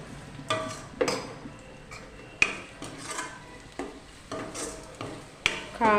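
Marinated chicken is mixed by hand with chili powder, salt and ginger-garlic paste for a chicken curry. Soft, irregular clicks and clinks of a dish recur every second or so, fairly close and with no talking.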